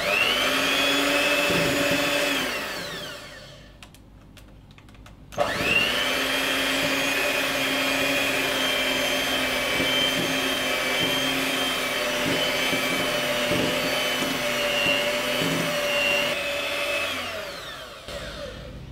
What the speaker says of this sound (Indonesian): Mixer kembali dengan kecepatan rendah sambil dimasukin susu cair.